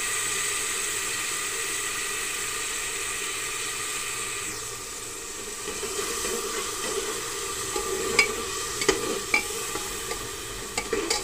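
A spice mixture with a dried red chilli and a little sugar roasting in a pan, producing a constant close sizzle and hiss, joined later by sharp scraping stirs and occasional clinks.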